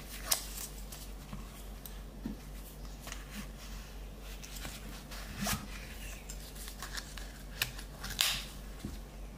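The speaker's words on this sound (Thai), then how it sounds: "เดี๋ยวผมจะลองใส่ไฟฉายเข้าไปให้ดู" An Olight Seeker Pro flashlight is slid into a nylon cloth holster, giving sparse scraping, rustling and zip-like fabric sounds with a few sharper clicks, close and fairly quiet.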